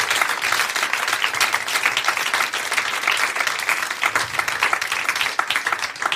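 A live podcast audience claps together, a full, continuous burst of crowd applause held steady throughout at close range.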